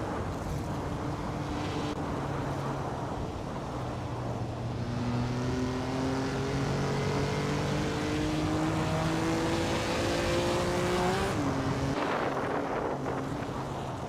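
1950s Ferrari 250 Testarossa race cars roar around a track in a racing video game, several engines droning and rising in pitch together, steady and loud throughout, with gear shifts near the end.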